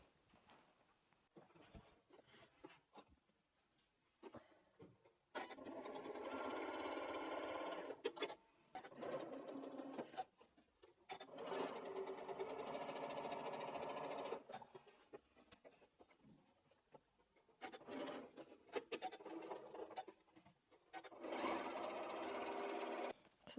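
A sewing machine stitches quilt blocks in several long steady runs, its rapid mechanical chatter broken by short pauses and handling sounds, with no voices.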